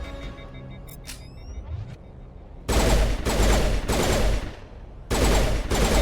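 Rapid pistol fire in the Mass Effect video game rattles out in two loud sustained bursts of quick repeated shots, preceded by quieter electronic game tones and a rising whine, with no talking.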